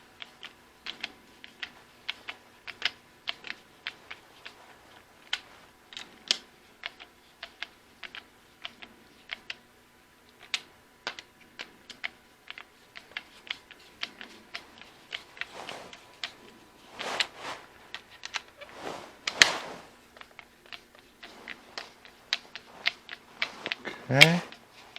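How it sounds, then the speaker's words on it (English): Torque wrench tightening a Scalarworks optic mount for an EOTech sight down to 20 inch-pounds, giving a long run of small dry clicks and creaks at close range, with a few louder bursts of handling noise near the end. "now we're going to go ahead and torque this down to 20 inch-pounds."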